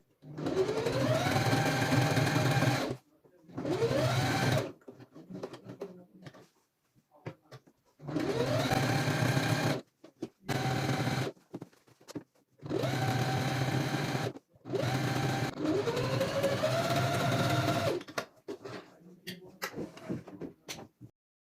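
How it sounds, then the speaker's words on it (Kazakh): A sewing machine stitching a fabric table runner runs in several loud, close bursts of rapid whirring, each a few seconds long, separated by short pauses and faint handling noises. "Міне сонымен айландырып тігіп алдық."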